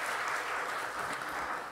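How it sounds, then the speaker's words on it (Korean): Steady, dense applause fills a Sunday third-service church worship gathering, a congregation clapping together for a family after their hymn performance, sustained and fairly close throughout without speech. "우리 시온이 가족을 위해서 수고했다고 박수 한번 하겠습니다"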